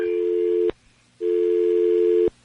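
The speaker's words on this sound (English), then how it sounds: "I could hear the dial tone at the same time" A telephone tone heard after a caller hung up: two steady electronic beeps, each about a second long, separated by a short gap, clear and alone on the line.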